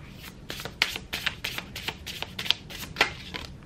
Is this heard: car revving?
no